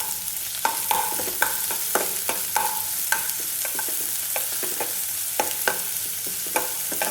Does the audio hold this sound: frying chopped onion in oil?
yes